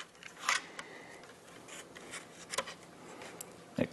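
A camera filter drops into a matte box filter tray with a few small, quiet clicks and scrapes, sharp metallic ticks spaced out over a faint background, ending in a firmer click.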